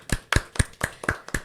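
Six sharp, evenly spaced handclaps sound close by in applause for podcast guests, a brief rhythmic burst with no talking.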